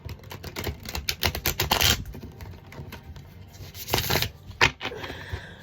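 A deck of cards shuffled for a reading, a quick run of close riffling flutters and soft slaps coming in bursts, with no talk.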